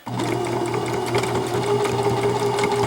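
A sewing machine runs steadily at speed, stitching over mask elastic with a loud, close, continuous mechanical whir and rapid needle clatter.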